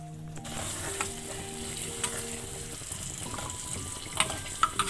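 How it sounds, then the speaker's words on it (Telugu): Onions sizzle in ghee and butter in a pan, a soft steady crackle at close range with a few sharp pops and light clinks of stirring, no one talking. "చూడండి ఉల్లిగడ్డ ఫ్రై అవుతుంది"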